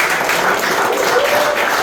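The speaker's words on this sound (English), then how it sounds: "All right, everyone give Tyrez a round of applause." An audience claps for a newly launched auto detailing business owner, a dense, continuous wash of applause filling the short stretch at even loudness.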